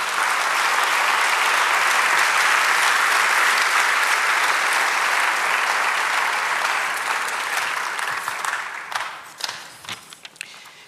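Loud, sustained applause from a church congregation praising God during a sermon, a dense wash of clapping that holds steady for most of its length before thinning into scattered claps near the end.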